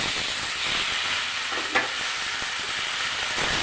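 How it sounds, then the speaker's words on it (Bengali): Vegetables with a paste of green chilli, ginger and cumin fry in a pan for a vegetarian curry with lentil dumplings, giving a loud, continuous hissing sizzle with one brief clink of the stirring spoon near the middle. "ভালো করে একটু কষিয়ে নেব"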